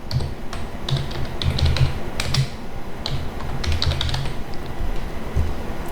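Typing code on a computer keyboard, with quick clusters of crisp key clicks in an uneven rhythm, close up and clear with only brief pauses between bursts.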